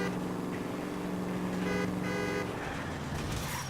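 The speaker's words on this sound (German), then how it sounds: "Da gibt er nochmal Gas." A car in the 1940s Los Angeles crime game L.A. Noire accelerates in a chase. The engine holds a steady, rising whine, loud and continuous, with a brief horn-like tone partway through.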